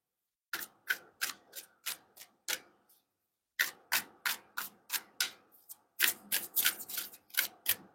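Tarot cards being handled and laid out during a reading: a string of crisp, close taps and snaps in quick irregular bursts, broken by a short pause, with no talking.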